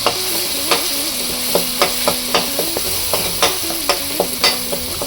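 Ground masala fries in a little oil with turmeric for a no-onion, no-garlic vegetable saagu, as a spoon repeatedly scrapes and taps the pan in a quick, fairly loud rhythm over a continuous sizzle.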